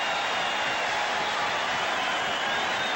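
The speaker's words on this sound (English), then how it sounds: "the crowd loves it" A stadium crowd roars steadily for a Green Bay Packers touchdown against the St. Louis Cardinals in 1984, a dense, continuous wash of cheering with no breaks.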